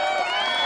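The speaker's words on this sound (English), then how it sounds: "I hit this applaud track" Canned applause track played on a podcast to welcome a guest, a dense steady wash of clapping and crowd cheer filling the short moment without pause.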